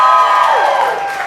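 An Independence Day crowd cheers and whoops for a band, a loud, dense wash of voices that holds steady and then eases off slightly.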